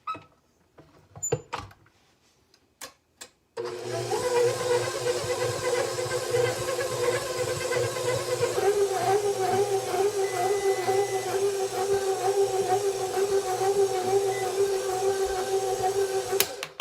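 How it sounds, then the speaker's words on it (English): A stand mixer with a dough hook kneads olive and cheese loaf dough at medium speed, starting abruptly after a few faint clicks and then running as a loud, steady motor whir with a humming drone. "we're going to let the dough hook do its magic, and we're going to mix that for 5 minutes on medium"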